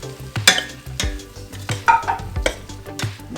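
Keto shrimp spaghetti stirred in a pan after fresh lemon juice goes in: a soft sizzle under a handful of scraping, clinking utensil strokes against the pan, close and alone without voices.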